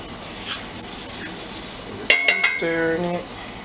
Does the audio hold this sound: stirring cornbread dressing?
yes